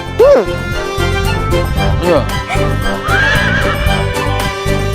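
A horse hitched to a chariot neighs loudly in a rising, shaky whinny near the start, with further shorter whinnies following over a busy backdrop of music and voices.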